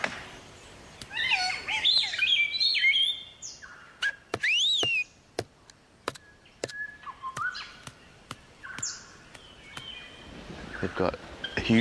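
A black cockatoo calls in an Australian forest, with rising whistled cries followed by sharp repeated clicks and chirps, fairly close and standing alone.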